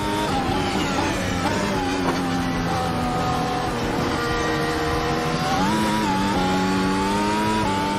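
A modern Formula 1 car engine in a racing video game, lapping the Nordschleife, drones loud and continuous with its pitch climbing and dipping through shifts and revs, with no talking.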